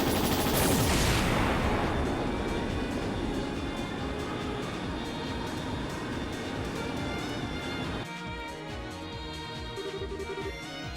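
Rapid gunfire from a gunner in the RPG Trails in the Sky SC rattles in dense, relentless bursts against aircraft, loud at first and gradually easing, then giving way to a lighter, clinking, tonal tail in the final seconds.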